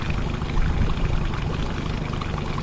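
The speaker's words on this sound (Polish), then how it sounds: "Co chwileczkę wymienia wodę, co sekwencję wymienia wodę w skrzyni" A fishing boat's livewell pump exchanges the water in the fish tank with a steady, loud rush of pouring and splashing water that runs without a break, close by and with no voices.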